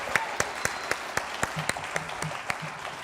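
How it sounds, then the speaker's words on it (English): Audience at a live campaign event in Hayward, California clap steadily for an arriving speaker, sharp claps popping repeatedly through a broad wash of applause, moderately loud and without talk over it. "Dr. Oberstein, let's give him a big round of applause"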